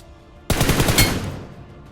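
Automatic rifle fire in a battle royale shooter, an AKM: a sudden loud burst of rapid shots beginning midway, with a trailing echo that fades over the following second; no voices.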